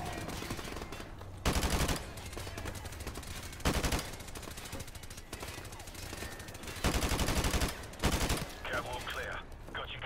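Rapid bursts of automatic gunfire and a flashbang grenade in the Modern Warfare Remastered campaign, loud dense crackling volleys coming in several separate blasts over a constant battle din, with occasional speech mixed in.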